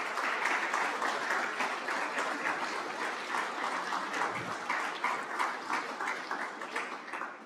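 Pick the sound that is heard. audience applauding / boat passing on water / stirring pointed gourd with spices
audience applauding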